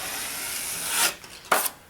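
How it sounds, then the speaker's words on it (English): A drywall knife scrapes joint mud smooth across a drywall joint in two close, rasping strokes, a longer swelling pass followed by a shorter, sharper one, with no talking. "I'm basically looking to just smooth the joint out now."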